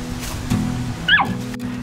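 Dogs outdoors on a sunny day give a quick high yip and whimper over steady low background rumble, brief and moderately distant.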